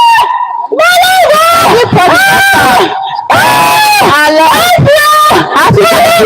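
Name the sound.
woman screaming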